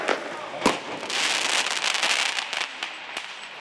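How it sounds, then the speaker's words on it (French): Fireworks fired from the heart of an urban neighbourhood crack and pop in a quick cluster of sharp, fairly close bangs with crackling trails between them. "8 tirs de feu d'artifice qui proviennent du cœur du quartier"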